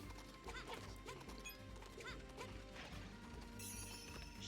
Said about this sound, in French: Il a sauté en diagonale, le cheval, ou je rêve?